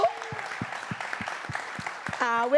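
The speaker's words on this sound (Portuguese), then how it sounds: "Aplauso para nós, Quina" Audience applause at a variety show, with a steady wash of clapping broken by a regular low thumping beat, while a voice and a rising musical tone come in at the end.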